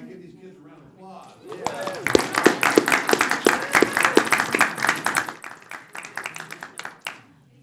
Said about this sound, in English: All right, give these kids a round of applause